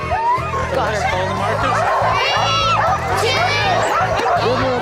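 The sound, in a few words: sled dogs barking at dog sled race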